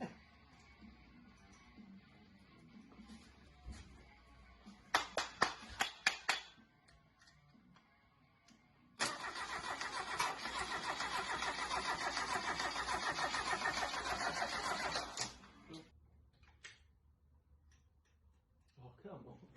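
Junkyard VW Beetle engine cranks over, first in a few short bursts, then in a long steady churn of several seconds that fails to catch, with voices around it.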